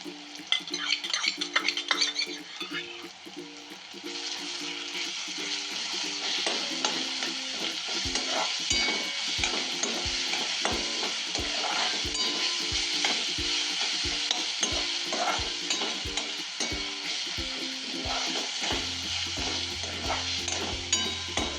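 Ginger, garlic and coriander paste frying in a pan for cauliflower bhaji: a steady close sizzle with regular stirring scrapes and light utensil clinks throughout.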